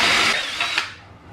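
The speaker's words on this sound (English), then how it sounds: "Now I was using a masonry concrete bit to do that." A power drill with a masonry bit bores into concrete, a loud, harsh, brief grinding burst that fades quickly.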